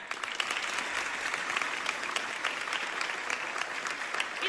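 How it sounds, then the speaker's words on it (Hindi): An audience at a business seminar gives a speaker named Toppo a loud, sustained round of applause, dense clapping that holds steady and near for the whole stretch with no talking. "एक बार आप खड़े हो जाइए, एक बार इनके लिए जोरदार ताली।"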